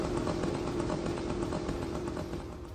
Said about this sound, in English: you will be hearing a two-stroke moped buzzing in the air